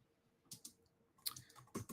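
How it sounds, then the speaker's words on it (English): Faint bursts of clicking keystrokes on a computer keyboard, a few quick clusters separated by short pauses, close and quiet. "And I'm typing something out right now."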